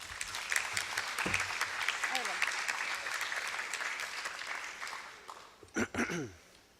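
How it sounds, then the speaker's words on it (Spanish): Applause at a national congress on state contracting and arbitration in Peru, welcoming a legal manager from Telefónica del Perú; steady crowd clapping fills the room, fading near the end as a voice begins. "Por favor, recibámosle con un fuerte voto de aplausos."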